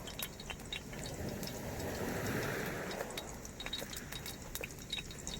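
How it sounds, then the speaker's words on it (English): Rain falls outdoors on a beach into a cooking pan, giving a dense, steady patter with scattered sharper drips and pings over several seconds, close and continuous with no speech. "you can hear the rain getting in the pan there."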